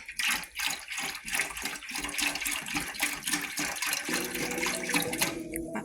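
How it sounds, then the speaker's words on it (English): Beef broth poured into a pot of water for baked oxtail: a continuous splashing, gurgling pour that stays fairly loud and steady, then settles into a softer trickle near the end. "But then we're gonna add our beef broth."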